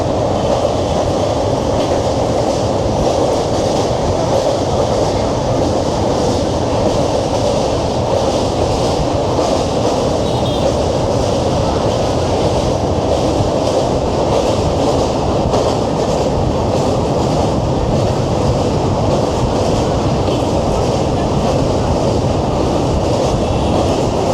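The Darjeeling Mail, train 12343 from Kolkata, rolls past Bally station at night, heard from on board as a loud, unbroken rumble of wheels and carriage noise with faint rhythmic clatter throughout and no talking.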